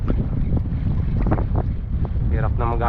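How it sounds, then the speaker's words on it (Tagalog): Steady wind roars over the shore during shore casting in Palawan, Philippines, a constant broadband rush with gusts swelling and easing across the whole stretch, and brief voice fragments rising faintly through it. "Hangin na rin."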